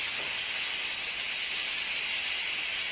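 Prawns fried lightly in a pan for a couple of seconds give a steady, loud, continuous bright hiss and sizzle, even and unbroken throughout, with no voices.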